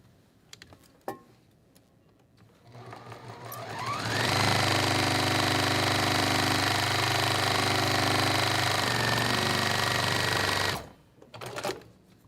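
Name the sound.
sewing machine stitching a quilt block seam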